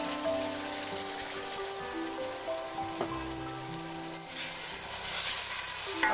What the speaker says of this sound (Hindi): अब टमाटरों को थोड़ी देर भून लेंगे।